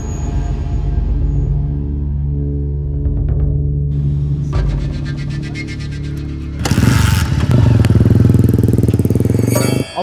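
A motorcycle engine rumbles at a steady idle, then roars louder as the rider revs it hard near the end. No one speaks.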